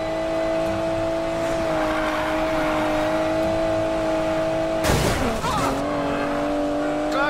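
A car speeds up in the Need for Speed Payback racing game, its engine droning loud and steady before a sudden crunching, squealing burst breaks in, after which the engine tone carries on.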